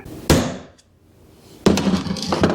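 Two sharp metallic strikes, each followed by ringing, with a short quiet gap between; close and loud, a hammer tapping a center punch into metal.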